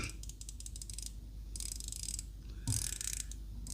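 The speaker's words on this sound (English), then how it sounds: "The bezel itself is 120 click unidirectional. I'll be quiet so you can hear that." Rapid, fine ratcheting clicks come in bursts as the small 120-click unidirectional bezel of a Rotary Ocean Avenger watch is turned, crisp and close with quiet pauses between turns.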